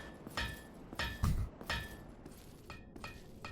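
In Dark Souls, a blacksmith's hammer rings against metal in repeated sharp, metallic clanks, roughly six strikes at an uneven working rhythm, each with a short bright ring, heard at moderate distance.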